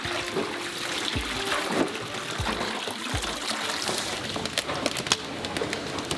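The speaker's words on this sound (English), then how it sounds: "Next, they wash each bean to remove any impurities." Water trickling and splashing as vanilla beans are washed at a processing facility, a soft continuous running flow with scattered light clatters and faint background birds.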